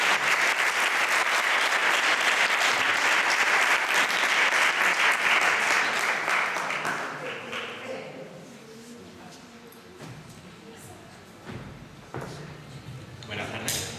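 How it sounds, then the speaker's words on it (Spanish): Audience applause for a speaker at a conference, loud and sustained for about seven seconds before fading into scattered claps and a low murmur. "Un aplauso para María."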